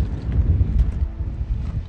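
Strong wind buffets the microphone outdoors in a glacier-rich country, a continuous low rumbling roar with gusty surges and no speech.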